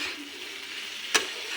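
Fried soybeans being stirred in a frying pan for a vegetarian vegetable dish: a steady soft sizzle runs throughout, with one sharp scrape or clack of the spoon near the end.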